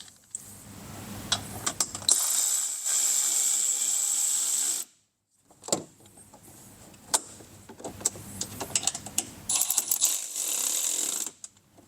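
A screw is threaded into a Rokblokz fender kit on a 2024+ Polaris RZR XP 1000, giving whirring, ratcheting driver runs in close bursts separated by short pauses and small clicks.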